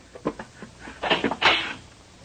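A door opens in a 1950 science-fiction radio drama, a short run of clicks, a creak and a rattling swing, close and moderately loud, with no talk.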